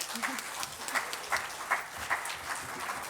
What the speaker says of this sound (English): So give them a bit of a clap.